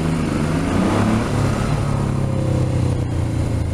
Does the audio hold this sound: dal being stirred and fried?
no